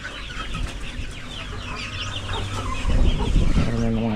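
Chickens clucking on a farm among turkeys, several birds close by in a noisy outdoor setting, with intermittent clucks and squawks growing louder toward the end, a voice faintly mixed in.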